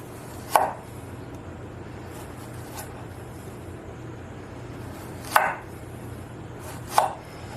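A Damascus steel knife cuts through a small cucumber: three crisp, separate chops spaced a couple of seconds apart, close and clear over a low steady background hum.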